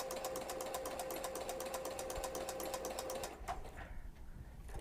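Steady rapid stitching from a sewing machine fitted with a flower presser foot as it sews circles, an even mechanical chatter that runs for several seconds before it stops and leaves a quieter hum.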